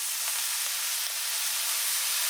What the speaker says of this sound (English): It's going to get down there and start really sizzling.